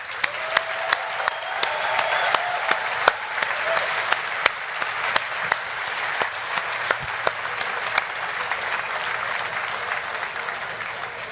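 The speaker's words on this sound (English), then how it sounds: "Big round of applause, please." Sustained audience applause at a Formula Student 2022 awards ceremony, a steady dense wash of clapping from a large crowd lasting throughout with scattered sharper individual claps standing out, no speech over it.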